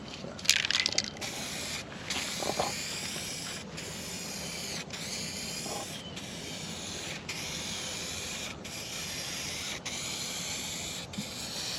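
Paint spray gun hissing steadily as it sprays car body panels in light coats, a continuous close airy rush broken by brief regular pauses between passes.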